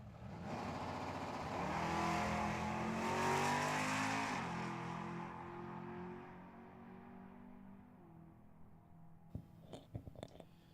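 A drag racing car accelerates hard down the strip at Tucson Dragway, a loud roaring engine climbing through rising revs and fading into the distance, followed by a few faint clicks and knocks near the end.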